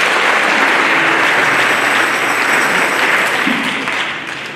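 A congregation applauds inside a cathedral during a Chrism Mass, with loud, dense, sustained clapping that fills the space and tapers slightly at the end.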